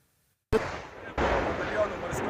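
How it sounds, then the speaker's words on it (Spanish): After a moment of silence, two sharp, loud gunshot-like bangs ring out close by, each followed by rough, sustained noise. "Disparos entre proclamas de victoria"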